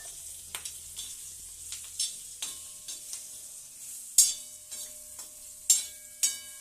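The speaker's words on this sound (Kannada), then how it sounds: "ಚೆನ್ನಾಗಿ ಫ್ರೈ ಆಗಬೇಕ್ರಿ ಮೆಣಸಿನ್ಕಾಯಿ ಫ್ರೈ ರೆಡಿಯಾಗಿದೆ" Green chillies fry in a pan with cumin powder and salt, a thin bright sizzle under repeated sharp scraping and tapping of a spatula against the pan, close and without speech.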